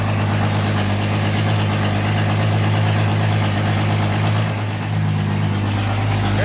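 A 1964 Ford Ranchero engine idles loudly with no exhaust fitted, a steady close rumble with a strong low drone that barely changes over the clip and a slight dip near the end.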